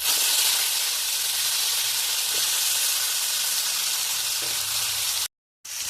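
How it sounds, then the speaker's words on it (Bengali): Steady, loud sizzling of cut potatoes frying in hot oil with five-spice seeds, a continuous hiss with a brief cut near the end. "আলুগুলো আমার ভাজা হয়ে গেছে"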